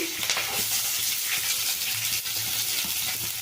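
Green and dry chillies and onion frying in a pan for a pumpkin palya, giving a steady, loud hissing sizzle that carries on without a break and is heard alone.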